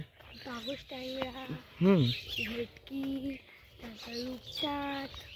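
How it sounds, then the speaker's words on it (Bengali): Several birds call nearby in short, repeated whistled and cooing notes, spaced out with brief pauses, fairly clear against a quiet village background near fish ponds. "মনোরম সুন্দর পাখির ডাক"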